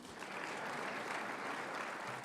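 Audience applause at the opening ceremony of the AGRF 2018 forum, a steady even wash of clapping from a large crowd that holds at a constant moderate level throughout.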